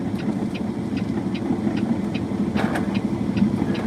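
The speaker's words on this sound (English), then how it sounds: "Letting the Jake brake do a lot of the work." A semi truck pulling a trailer slows on its engine brake, making a steady, loud low rumbling drone heard from inside the cab, with faint clicks over it and no talking.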